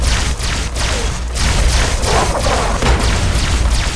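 Plasma grenades and gunfire in a Fallout: Tale of Two Wastelands battle against the Enclave, heard as a loud, continuous barrage of booming blasts and thuds, dense and close throughout.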